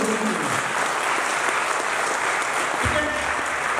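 Loud, dense audience applause at a leadership development program event in Raipur, Chhattisgarh, filling the hall steadily for a few seconds with no voices over it.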